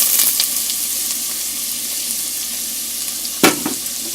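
Onions, with mushrooms, frying in melted butter in a pot for pumpkin soup: an even, close sizzling hiss throughout, broken once by a brief utensil clatter.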